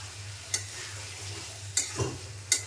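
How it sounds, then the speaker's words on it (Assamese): Raw peas frying in a pan while being stirred, giving a low steady sizzle with a few sharp scraping clicks of the spoon against the pan, close by with no talking. "এতিয়া ধুনীয়াকৈ মটৰখিনি অকণমান দেৰি ভাজি ল'ম"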